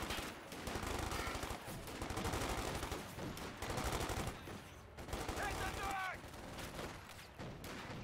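Thompson submachine guns rattle in a Company of Heroes 2 battle, with rapid automatic bursts layered among other gunfire, fairly steady then briefly swelling, while a voice talks over parts of it.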